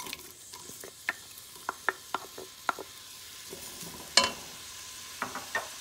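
Chopped onions fry gently in a tablespoon of coconut oil in a pot, giving a quiet sizzle broken by sharp spoon clicks and scrapes against the pot, with one louder knock near the end.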